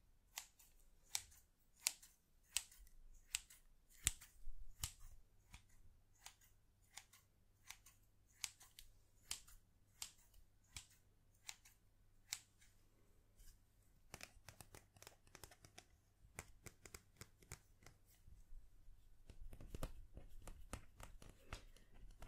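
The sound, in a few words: scissors cutting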